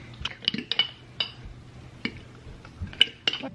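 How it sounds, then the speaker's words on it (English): Light clinks and taps of a whisk against a bowl while stirring a yeast mixture, sparse and irregular, close and fairly quiet. "A teaspoon of yeast. I need to whisk it all together."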